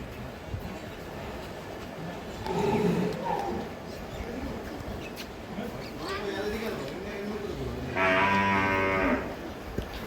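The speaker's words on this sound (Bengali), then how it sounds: "এই গরুটা দাঁড়াও, এই যে গরুটা হচ্ছে বড়ই, মোটামুটি বড়ই" A large cow bellows a long, loud moo near the end, with a shorter lowing call earlier, as people talk nearby at a cattle yard.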